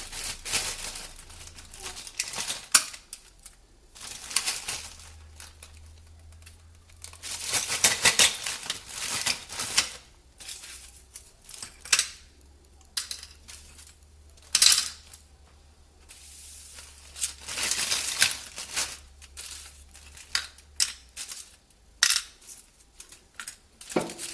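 Hardened caramel broken into pieces is handled and put into a nylon bag, with repeated crinkling of plastic and light clinking of brittle shards in bursts, close and fairly quiet, with no talk.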